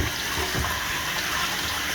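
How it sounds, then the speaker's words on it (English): Hot water runs from a bathroom tap in a steady, close hiss of flowing water with no other sounds. "Get some nice hot water."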